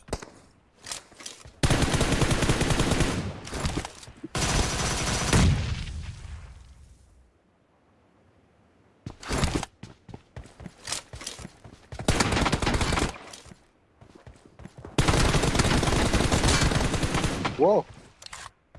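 Bursts of automatic gunfire from the battle royale video game BGMI, loud and dense, in several sustained volleys separated by short pauses and scattered single shots, with a voice talking over parts of it.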